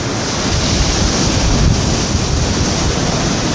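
Ocean waves crash steadily onto the shingle beach beside the south jetty of Port Ouest, Réunion, at dusk, a loud, continuous roar of surf close by with wind buffeting the microphone.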